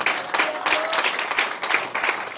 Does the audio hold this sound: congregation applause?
yes